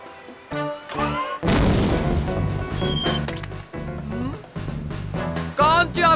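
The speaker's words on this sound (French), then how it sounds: "Un canon à guano." A guano cannon in the Ratz cartoon fires in a series of punchy, booming blasts mixed with squeaky comic effects and rising whistles. The bursts are loud and close, arriving in irregular bunches with short gaps between them.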